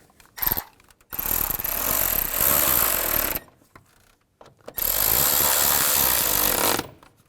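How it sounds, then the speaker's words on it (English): A power tool tightens bolts while a radiator cooling fan is installed on a 2013-17 Nissan Sentra, two loud sustained whirring bursts of about two seconds each, separated by quiet handling noises. "Install the 2 bolts. Right there and right here, and tighten them up."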